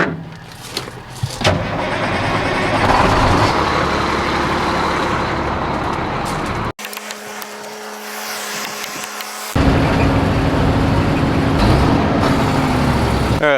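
Two trucks move in beside a Claas Lexion combine during an Ohio wheat harvest, giving a loud continuous engine rumble and roar with a short break midway before the engine noise swells back strongly.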